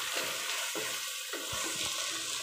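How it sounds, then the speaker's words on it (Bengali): Vegetables for fried rice stirred in a hot pan, a steady sizzle broken by several scraping stirs of the spatula, close and alone. "আমি এখন নেড়ে সবগুলোকে দিব।"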